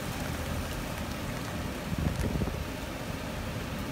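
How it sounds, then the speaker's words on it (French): Tropical rain in Florida heard from a car driving through a residential neighbourhood on a hot day: a steady, dense broadband hiss of rain and wind noise that holds at a constant level throughout, with no voices. "Ah, voilà, on a une petite pluie tropicale"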